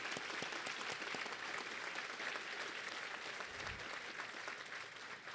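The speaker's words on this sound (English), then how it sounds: "Let's give them a round of applause." Sustained applause from a crowd at a children's hospital ribbon-cutting ceremony, dense and steady throughout, heard from some distance and slightly fading toward the end.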